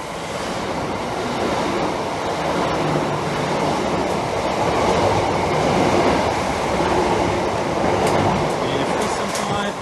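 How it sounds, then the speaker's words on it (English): A train runs through Swanley station at platform 3 without stopping, a steady, loud rushing roar of rail wagons lasting throughout, with faint clatter near the end. "The approaching train is not scheduled to stop at this station."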